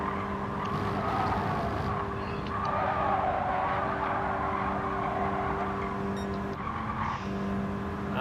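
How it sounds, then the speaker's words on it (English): Race car in a racing video game braking into a hairpin, with a continuous engine roar and a sustained tire squeal and skid, steady and fairly loud throughout. "I'm still seeing a lot of you guys braking way too late for the hairpin"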